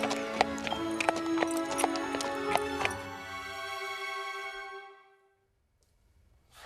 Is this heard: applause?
no